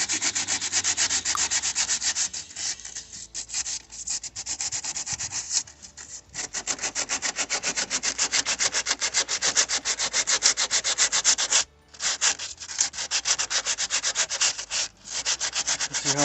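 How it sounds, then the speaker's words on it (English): Hand sanding a cracked plastic car bumper repair with 80 grit sandpaper, steady rapid back-and-forth rasping strokes, close and continuous for many seconds with a few short pauses. "I'm gonna just give it a little sand with an 80"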